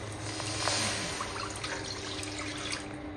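Water from a full mug pours into a thick iron kadhai, a steady splashing trickle with a few brighter drips, close and moderately loud without any speech.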